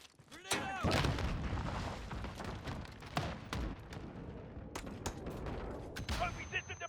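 Gunfire and a grenade in the video game Call of Duty: Modern Warfare (2019) on a shoot house hardpoint match: loud overlapping rifle bursts and sharp cracks, with blasts that ring out and echo, continuing without pause.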